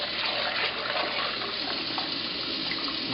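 Water runs steadily from a kitchen tap while rice is rinsed by hand in a bowl. A constant, fairly faint hiss of flowing water continues throughout with no talk.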